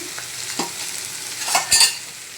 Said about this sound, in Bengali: এখানে একটু নেড়ে ছেড়ে তো ভালোভাবে ভেজে নিব